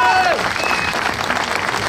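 Applause for rally winners at a Rallye d'Automne event with a Skoda Fabia R5 crew, a brief burst of dense clapping from a crowd, loud and close.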